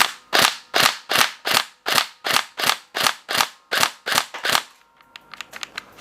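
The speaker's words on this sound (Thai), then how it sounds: "เดี๋ยวผมจะอัดกระสุนไปประมาณ 15นัดนะครับผม แล้วก็จะยิงนะครับ" Tokyo Marui HK416 Delta NGRS airsoft electric gun fires a rapid string of about fourteen sharp, loud shots in steady rhythm, then stops abruptly as the magazine empties, leaving a few faint mechanical clicks.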